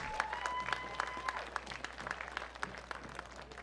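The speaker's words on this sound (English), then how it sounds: "How about one more big round of applause for all our inductees into the Hall of Fame?" A crowd applauds Hall of Fame inductees at a high school varsity football game in Franklin: sustained, fairly distant clapping with a continuous thin tone above it and some crowd murmur.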